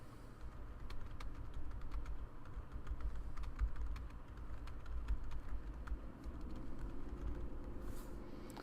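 Fingers type on a computer keyboard with quick, faint, irregular clicks over a low steady background hum, heard with no voices.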